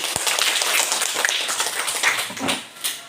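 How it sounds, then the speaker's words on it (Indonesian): An audience at a school gathering applauds a female teacher with dense, steady clapping that fills the room for about three seconds, then thins slightly near the end. "Terima kasih, tepuk tangan untuk Ibu."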